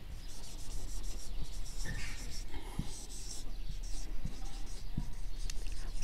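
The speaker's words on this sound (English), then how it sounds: "I will write it in words." Marker or chalk scratches across a board during a vector calculus lecture, short strokes and taps in an irregular rhythm at moderate distance, with faint room noise and soft breathy voice sounds underneath.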